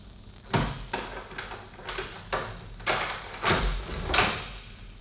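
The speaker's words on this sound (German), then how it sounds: "Da sprang die Türe auf" An old, rusty key turns in the lock of a small door, which then springs open in a fairy-tale audio drama: a close series of sharp wooden clunks and rattles, about seven in a row, with no voices.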